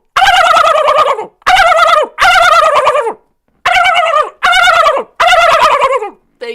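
A played turkey gobble sound effect repeats in six loud, rapid bursts with short gaps between them, each a rattling, warbling call, clear and close with no talk over it.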